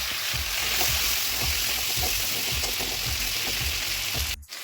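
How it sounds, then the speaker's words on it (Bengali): Potatoes fry in hot oil left over from frying prawns, a dense, loud, continuous crackling sizzle with rapid pops, close up and without talk, briefly dipping just before the end. "তো আলুগুলো আমি ফ্রাই করে নেবো।"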